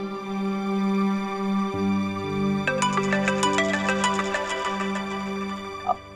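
A melodic phone ringtone plays steadily, sustained synth tones joined midway by brighter chiming notes, clear and close with no voices.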